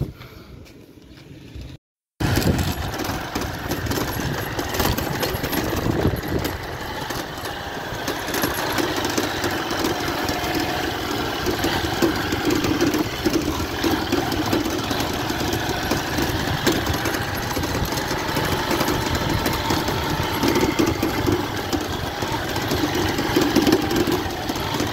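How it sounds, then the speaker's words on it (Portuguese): An idling motorcycle engine runs continuously and close by, with a rough, rattling knock from the front end and a short dropout near the start, no talking. "Olha só como é que tá o barulho dessa moto aqui na frente aqui, ó."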